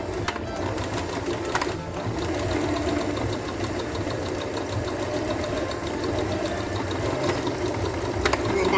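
A sewing machine stitches the edge of a fabric face mask with a fast, steady mechanical chatter, loud and close, running continuously with a couple of brief clicks.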